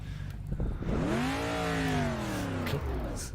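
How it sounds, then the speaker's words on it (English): A V8 super truck engine in the Automobilista VR racing game revs up and holds a steady, loud roar for several seconds, its pitch rising and then easing back, with no talk over it. "This sounds like a NASCAR engine"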